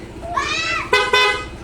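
A loud aftermarket horn on a Honda PCX 160 scooter honks in a sustained blast, then two short sharp toots follow, close and brassy.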